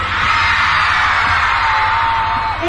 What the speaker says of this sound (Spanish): A ver el grito de las chicas.